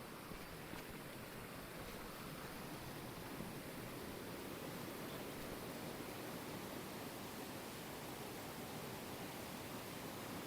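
Rushing water from the top of a waterfall, a constant dense roar with no breaks, steady and fairly distant, with no voices.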